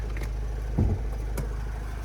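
Low, steady diesel engine hum of a 2010 Renault Trafic 2.0 van idling nearby, with a couple of brief thumps and a short clatter over the drone.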